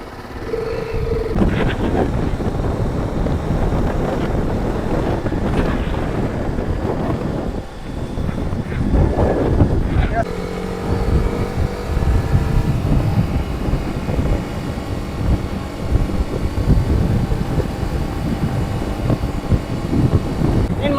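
A TVS Apache RR310 motorcycle rides along an open road, its engine droning under heavy wind rush across the microphone, with the rider talking over it throughout.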